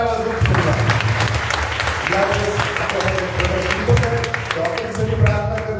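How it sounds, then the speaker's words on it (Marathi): Church congregation clapping loudly together during a worship service, a dense steady wash of applause that fills the whole clip, with a voice speaking over it. "आपण जोरात टाळ्या वाजवून"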